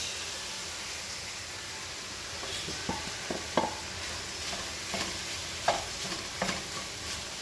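Veggie ground meat sizzles in a pan while being cooked for pasta sauce, a steady frying hiss broken by light scrapes and taps of stirring.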